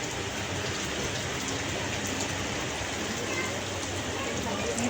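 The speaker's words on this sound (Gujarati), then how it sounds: "વરસાદ આવે" Steady rain falls, a dense, even hiss of drops on surfaces that goes on without a break from start to finish.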